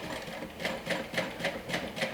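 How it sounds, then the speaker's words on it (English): A sewing machine stitches a quarter-inch seam on a crossbody bag, eight quick, evenly spaced mechanical thumps in a steady rhythm, close and moderately quiet, with no talk. "I'm stitching this down with a 1/4 inch seam allowance."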